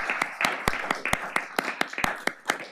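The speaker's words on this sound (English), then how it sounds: "Everyone, let's give Elise a big round of applause." A small group at a city council meeting claps for a student poster winner, a sparse run of distinct, evenly spaced claps close by rather than a full roar.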